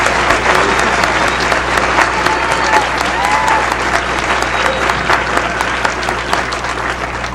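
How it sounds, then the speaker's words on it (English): An audience at a Magic Castle tribute gives sustained applause, steady, loud clapping from many hands that carries on without a break to the end. "I think that it would really not be a waste of our energy if we would applaud Irene Larson for her work with that."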